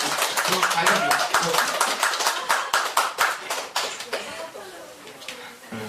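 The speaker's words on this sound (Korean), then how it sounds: "박수 한번 쳐주세요." A church congregation claps at a Christmas service and children's program, loud close hand claps in a quick, slightly uneven rhythm that thin out and fade toward the end, with voices talking over them.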